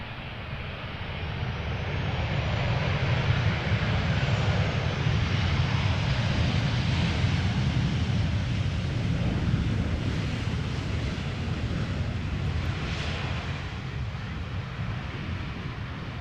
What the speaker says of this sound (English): KLM flight 1926 arriving from Geneva, 737-800